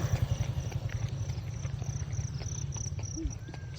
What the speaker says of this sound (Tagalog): Marinig mo naman yung ano, kuliglig.